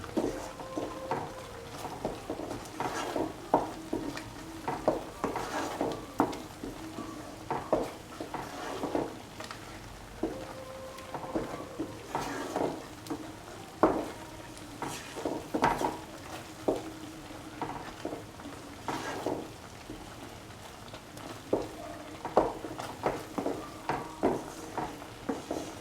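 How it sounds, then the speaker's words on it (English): Lentil dal frying in a pan with curry leaves, a soft low sizzle under frequent light scraping and tapping as a spoon stirs the thickening mixture. "Mix until the dal gets thick."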